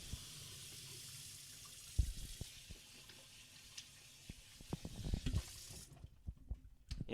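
Potatoes rinsed in a bowl under a running kitchen tap, a steady wash of water with scattered clunks and splashes as they are handled, close and moderately loud before the flow cuts off near the end.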